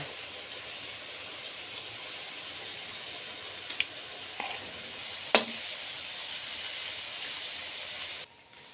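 Cauliflower and shrimp fry quietly in a covered-then-open pan with a soft, even hiss, broken by a couple of sharp metallic clinks from a utensil before it cuts off.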